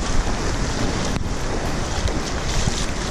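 A swollen river in Costa Rica flows in a steady, broadband rush of water, loud and close, with wind noise buffeting the microphone and no speech.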